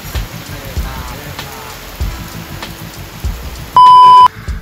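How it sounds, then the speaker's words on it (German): A car alarm beeps in a steady run of short tones through rain during a hurricane in Tulum, then gives one longer, louder beep at the end, over the hiss of falling rain. "Alarmanlage Vibes"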